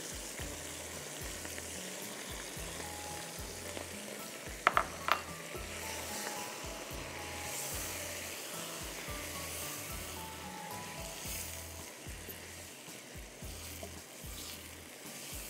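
A pan of Cajun pasta sauce with yogurt sizzles steadily while a spoon stirs it, soft scraping strokes and a couple of sharp clinks against the pan over a constant low simmering hiss, without talk.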